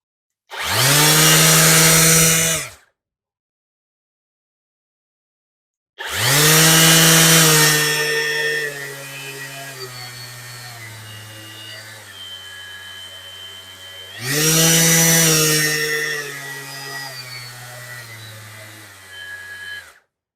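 A cordless orbital sander bought from AliExpress runs in three loud bursts with gaps between them, whining steadily with its pitch stepping as it switches between speed settings.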